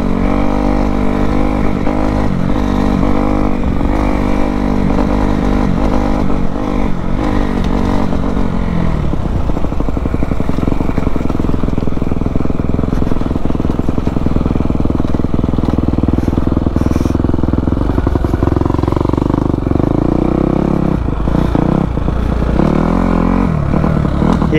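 Kawasaki KX250F dirt bike ridden off-road, its engine loud and close with continuous revving that rises and falls as the rider shifts and throttles.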